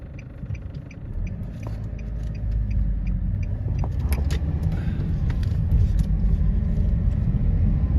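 A car driving along toward a parking lot, heard from inside: a steady low engine and road rumble that grows a little after the first second, with faint clicks and rattles on top.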